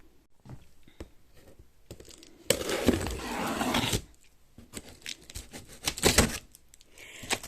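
Opening a cardboard box holding a new computer: a loud, rough tearing rush of cardboard for about a second and a half, then scattered crisp rustles and snaps from handling the packaging, close by with no talking.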